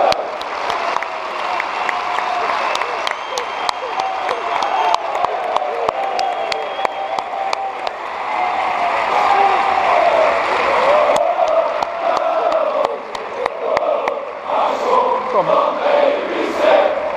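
Large crowd applauding at a celebration, sustained dense clapping with cheers and whoops that swell partway through and keep going for many seconds, with scattered shouting voices mixed in.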